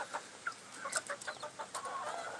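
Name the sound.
Orpington and Bantam chickens clucking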